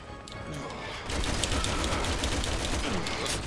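Rapid sustained gunfire in Resident Evil 6 during a boss fight, a loud dense burst of repeated shots that swells after the first second and continues steadily, with faint talk beneath.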